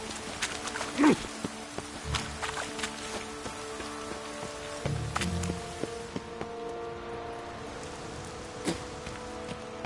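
Steady light rain patters over a quiet city scene in The Witcher 3, soft and even throughout, with a few faint knocks and thuds from the surroundings.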